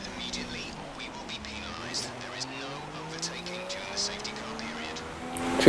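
Race cars in an F1 racing game at Singapore whine past on track, engines rising and falling in overlapping pitches, with a low voice talking over the faint, steady engine noise.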